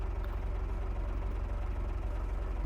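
A Farming Simulator 25 tractor engine runs at a steady low idle-like drone with a regular pulsing thrum, close and even, with no talk over it.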